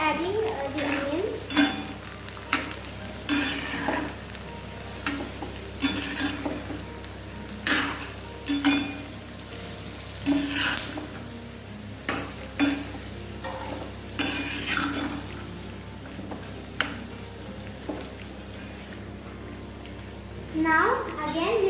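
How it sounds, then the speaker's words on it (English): Onions frying and being stirred in a pan while cooking mutton biryani, with a steady sizzle and repeated scraping, clattering stirs of a spoon against the pan, close up, under intermittent talk. "Mix it well after adding the onions."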